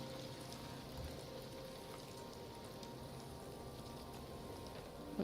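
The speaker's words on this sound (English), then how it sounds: "Just enjoying the sound of the rain." Rain falls in the samurai video game Ghost of Tsushima, a steady soft hiss of drops on surfaces that stays even and fairly quiet throughout, with no voices.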